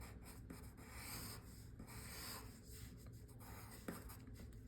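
A pencil lightly sketching a seashell on paper, a soft, close scratchy rubbing in short repeated strokes, quiet and alone.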